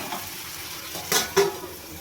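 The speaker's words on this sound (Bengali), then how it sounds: "এবার আমি একটা ঢাকা দিয়ে ঢেকে দেব 10 মিনিটের জন্য।" A metal lid set onto a pan of fried vegetables for a Bengali rui fish-head mixed vegetable dish, giving two quick close clanks a fraction of a second apart over faint background hiss.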